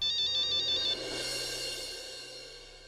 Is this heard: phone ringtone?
yes